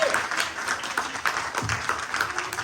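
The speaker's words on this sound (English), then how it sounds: "Round of applause, guys." Audience applause at an acoustic talent search performance, many hands clapping steadily and fairly loudly, close and continuous for a couple of seconds.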